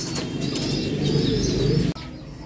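Pigeons kept in a backyard loft coo in low, throaty, repeated murmurs close by, several birds overlapping steadily before a sudden brief dip.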